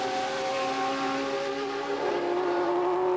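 A Williams-Renault FW13 Formula 1 car on its Grand Prix debut screams past at racing speed, a loud sustained high-pitched engine whine with a slight pitch shift as it passes.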